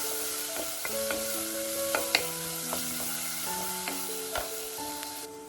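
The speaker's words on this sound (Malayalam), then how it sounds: "ചെറിയൊരു സവാള ഇട്ട് വഴറ്റി കൊടുക്കാം" A small onion sautés in a pan, giving a steady soft sizzle close by with occasional light clinks and scrapes of a stirring utensil, quiet and continuous, no voices.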